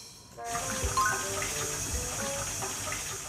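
Water runs from a tap in a bathroom, a steady rushing hiss that starts abruptly and continues evenly at moderate loudness, with faint tonal music underneath.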